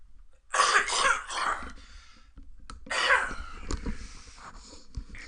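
A man coughs and clears his throat several times in two loud bursts, the sounds muffled and distant as if held away from a headset microphone, with quiet breathing and faint clicks between.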